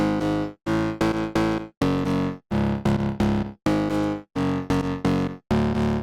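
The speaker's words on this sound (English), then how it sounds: "Now you want to find this plucky bass sound and put down a bass line." Plucky synth bass line for a phonk track, loud and distorted, played as short punchy repeated notes in a steady rhythm with brief gaps between phrases, no voices.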